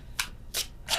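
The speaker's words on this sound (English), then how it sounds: "I was just moving the cards." Tarot cards are handled and shuffled in three quick, crisp riffling bursts at close range, with short quiet gaps between them.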